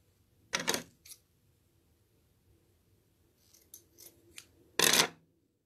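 Scissors snip through tulle for a patriotic wreath: a couple of crisp cuts near the start, a few lighter snips later, then one loud final cut, close and alone.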